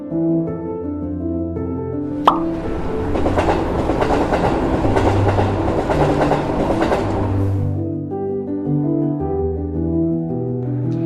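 Moving passenger train on a journey toward Kolkata, a steady rumbling roll with clickety-clack wheel rhythm, loud and close from inside the carriage, with a sharp knock near the start and no talk.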